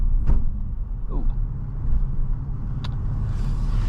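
A 2013 Porsche 911 Carrera S Cabriolet with a PDK gearbox pulls away at low speed, its engine a steady low rumble close by, with a few brief clicks and faint knocks over it.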